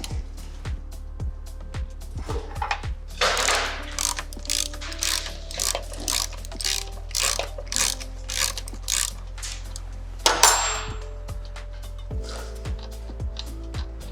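A front wheel axle nut on an SG400 motorcycle being worked loose with a 10mm Allen wrench, producing steady rhythmic ratcheting clicks in short repeated strokes with a brief metallic clatter partway through, close and fairly quiet.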